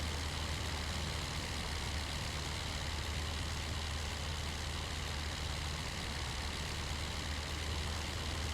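A World War I-era aircraft engine in the flight sim IL-2 Flying Circus drones steadily at reduced throttle, a constant low rumble with no change in rhythm for the whole stretch.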